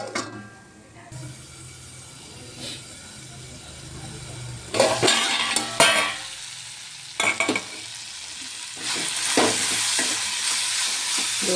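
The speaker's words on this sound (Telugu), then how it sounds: "కొంచెం వాటర్ అంతా డ్రై అయిపోయేంత వరకు వేయించుకోవాలండి" Broad beans with ground coconut sizzle and fry in a pan, with bursts of stirring and spatula scraping breaking through the steady frying hiss.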